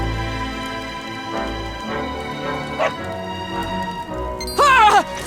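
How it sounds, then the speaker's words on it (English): A dog in the video game Dragon Quest XI gives a short, loud yipping bark near the end, heard over a steady game background. "No! No! Not a dog!"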